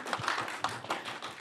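A church congregation applauds in a short, loose burst of overlapping claps. The clapping sounds soft and somewhat distant and continues throughout.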